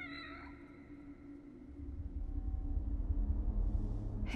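A black cat with red eyes meows in the horror video game The Evil Within: The Assignment, its cry opening the clip before a low ambient rumble swells beneath it.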